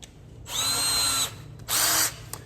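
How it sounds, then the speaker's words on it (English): Two close, high-pitched bursts of a step drill bit widening a hole in a van body panel, the first longer than the second, separated by a brief pause. "Now with the step bit, what you want to do is make sure you just get all of the blue circle gone"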